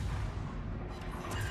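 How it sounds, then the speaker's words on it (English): A torpedo hit exploding in the World of Warships naval video game: a dense, loud, rumbling blast that stays heavy and sustained throughout, with no voices over it. "You like the torpedo effect too from hitting?"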